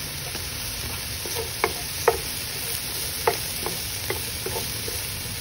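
Onion and garlic sizzling in a pan for ginataang sayote na may baboy, with a steady frying hiss and a few sharp clicks of stirring scattered through, close and moderately loud, no talking.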